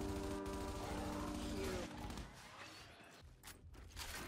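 Gunfire in the video game Gears 5 during a ranked Control match, a dense, loud burst of shooting that fills the first couple of seconds, then settles into a lower rumble of battle noise with scattered sharper reports.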